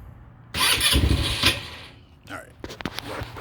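A 2019 Tao Raptor 200cc ATV engine cranks and catches, a close rough starter whir and sputtering burst followed by a lull, then a few uneven revving pulses as it tries to keep running, with faint voices in the background.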